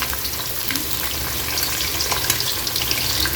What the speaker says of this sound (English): we're going to be throwing in some seasoning. So this is onion and some scallion.